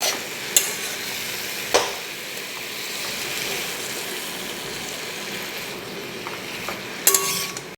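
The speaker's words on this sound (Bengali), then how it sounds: "সর্ষের তেলে কিছুটা কালো জিরে দিয়ে তার মধ্যে কয়েকটা আলু কুচিয়ে দিয়েছি আর এখন কুমড়ো শাকটা দিয়ে নিচ্ছি" Pumpkin greens and chopped potatoes fry in mustard oil with black cumin, giving a continuous soft sizzle with a few sharp clinks of a spatula against the pan.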